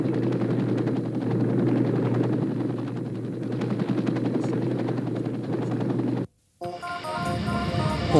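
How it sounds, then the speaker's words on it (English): Suppressive gunfire crackles around a rescue helicopter in Vietnam War footage, with loud, continuous rotor and engine roar throughout. The sound cuts out briefly near the end before a different tonal passage begins. "All the while, the Sandy would provide suppressive fire around the helicopter."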